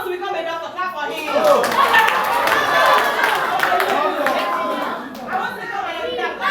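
An audience at a school mentoring outreach event claps for a student, a dense burst of applause swelling and fading over crowd chatter, with voices heard around it.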